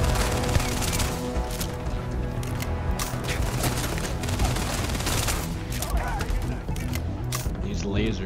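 Laser guns firing in a video game as a constant barrage of overlapping shots and impacts, loud and unbroken throughout, layered over busy game sound.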